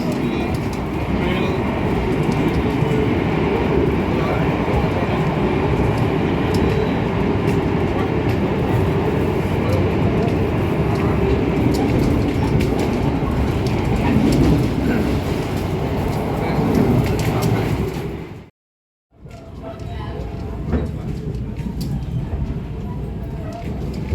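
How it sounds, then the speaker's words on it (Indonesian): Sembrani passenger train between Gambir and Surabaya running at speed, heard from inside as a continuous loud rumble and rattle of wheels on track, with a brief sudden dropout near the end before the noise resumes. "Kereta api Sembrani segera merapat di stasiun Tegal ya."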